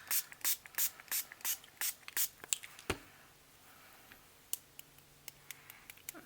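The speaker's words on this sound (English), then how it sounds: "So I am gonna spray this." A spray bottle hisses in a quick rhythmic series of squirts, close by, then a few scattered spritzes and taps follow.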